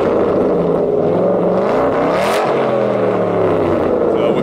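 An Aston Martin GT8 engine revs loudly, its roar climbing and falling in a sharp burst with a steady rumbling idle around it.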